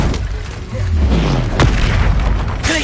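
Incendio fire spell cast in Hogwarts Legacy, a loud booming burst with a deep low rumble and fiery crackle, followed by a short sharp impact.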